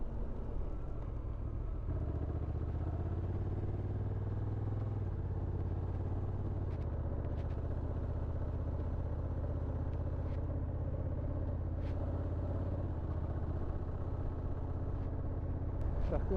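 A Honda NT 1100 motorcycle engine pulls at very low revs in third gear with slight vibration, a steady, continuous low rumble throughout with a layer of road and wind noise.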